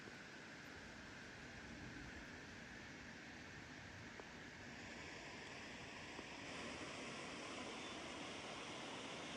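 A waterfall at Head Lake in Manitoba gives off a continuous broadband rush, steady and fairly faint, with no voices over it.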